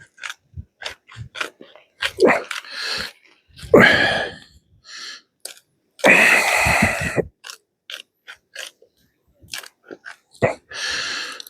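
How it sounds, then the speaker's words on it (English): A small salt and pepper grinder is twisted by hand close by, giving a series of short, gritty ratcheting crunches, some brief and some drawn out over a second, separated by pauses. "My little salt and pepper grinder."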